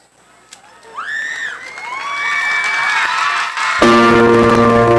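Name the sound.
crowd cheering and applauding at roadshow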